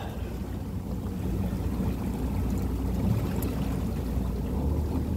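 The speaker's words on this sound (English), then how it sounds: "Can you kill the engine?" A motorboat engine running on a ride off Carolina Beach, a steady low rumbling drone mixed with water wash and rushing wind, constant and close throughout with no talk.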